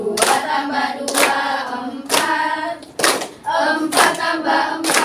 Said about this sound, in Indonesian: Ustazah harap semuanya tepuk tangan dengan semangat ya, sambil tepuk tangan sambil kita bernyanyi.